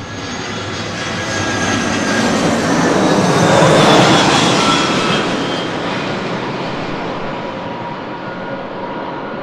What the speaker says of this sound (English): planes fly over our head here at the parking garage